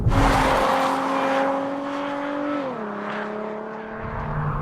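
A Hyundai Genesis Coupe engine roars nearby, its tone climbing and then dropping as it shifts gears.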